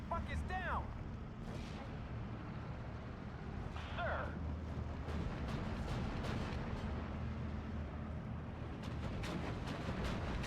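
Booming M4 105 howitzer artillery fire in the World War II strategy game Steel Division 2, heavy thuds under a dense battle soundscape with someone talking throughout.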